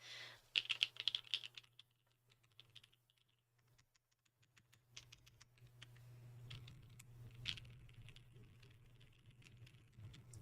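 Keys on a custom Manta mechanical keyboard with a socks mount clack in quick, soft bursts, first a brisk flurry and then scattered, quieter keystrokes over a faint low hum.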